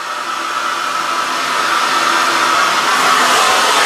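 A hair dryer blows hot air through hair, making a loud, constant rushing whir that builds slightly louder toward the end, with no voices.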